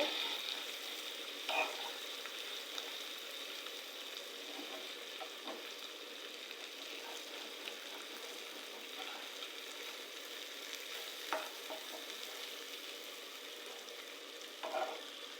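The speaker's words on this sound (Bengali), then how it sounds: "আমি মাংসটা লাল করে ভেজে নেব।" Meat frying in a pan, browning over a stove flame with a steady low sizzle, quiet and continuous, with a few faint clinks and stirs now and then.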